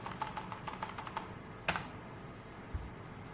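Steady clicking keystrokes on a computer keyboard, fairly close and quiet, with an irregular rhythm, one sharper key strike midway and a soft thump near the end.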